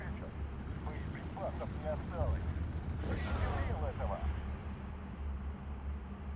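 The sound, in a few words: 250 kg bomb explosions in video game Steel Division 2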